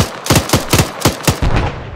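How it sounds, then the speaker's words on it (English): Rapid machine gun fire in the military shooter game Arma 3, a loud, close string of about six sharp shots at a steady rhythm with a brief sustained rattle at the end. "Catfish, shoot it with an MG."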